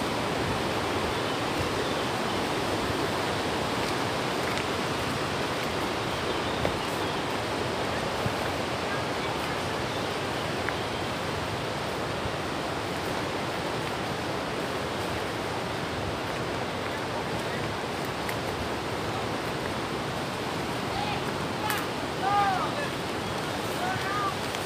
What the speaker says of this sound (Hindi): पानी की जो है ना आवाज़ थोड़ी सी कम हो रही है